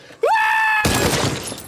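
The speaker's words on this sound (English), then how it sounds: "The final bullet pierces through the broken glass." A final bullet breaks through cracked bulletproof glass in a Korean action film: a rising vocal cry is cut off by a loud, sudden shatter that crackles and fades.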